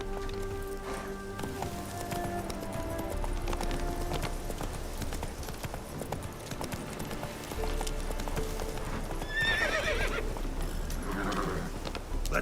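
Roach, Geralt's horse in the video game The Witcher 3, gallops with steady clip-clop hoofbeats and lets out a whinny near the end, all over game music and ambience.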